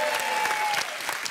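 A French TV studio audience applauds a dating game show's arriving couple with steady, dense clapping that holds at an even level through the short stretch.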